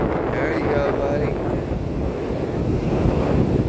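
Ocean surf rolls and washes at a beach in Hollywood, Florida, before Hurricane Nicole, with gusty wind buffeting the microphone in a steady roar. Faint voices can be heard.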